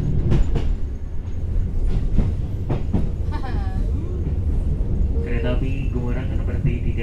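Gumarang passenger train running along rails in Indonesia, a steady loud rumble with rhythmic clicks and occasional wheel squeals, heard from inside the carriage while people talk throughout.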